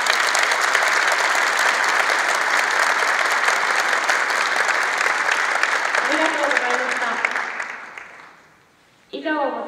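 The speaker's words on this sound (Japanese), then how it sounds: "もう一度盛大な拍手をお願いします。" Sustained loud applause from a standing crowd at the closing ceremony of a national high school kendo tournament, steady for about eight seconds before fading out, then a brief sharp burst at the very end.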